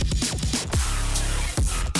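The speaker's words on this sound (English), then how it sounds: "So that drum fill, with a little bit of delay on it," A drum fill with delay in a melodic dubstep track: rapid booming toms and hits cascading downward and echoing, then a sustained heavy bass note, with another fill returning near the end, loud and dense.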